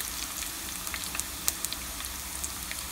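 Turmeric and spices frying in hot oil for a raw mango pulihora, a soft steady sizzle with a few sharp crackles and pops, close by and alone.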